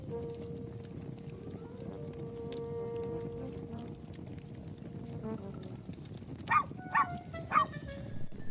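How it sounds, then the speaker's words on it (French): A dog barks inside a house during a fire, heard as a few distinct sharp barks near the end after a stretch of muffled background noise and a sustained tone. "on dirait qu'il y a un chien qui aboie à l'intérieur"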